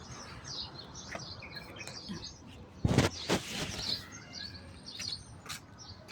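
Birds chirping outdoors, scattered high tweets against a steady background hum, with a brief louder rustle partway through.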